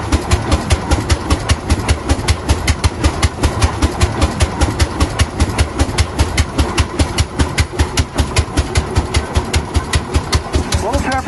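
An old tractor engine runs close by with a fast, regular chugging beat that stays loud and steady throughout.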